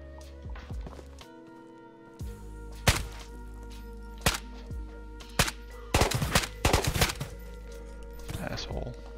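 Scattered gunshots during a raid in the video game Tabor, sharp cracks and short bursts at irregular intervals over a steady low hum, some near and loud, others fainter.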